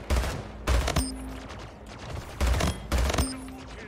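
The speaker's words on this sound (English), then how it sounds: "I keep trying to shoot, so I put portals down." Bursts of rapid gunfire in the arena shooter Splitgate, fired in three or four loud clusters with short gaps between, punchy and close, with faint game effects underneath.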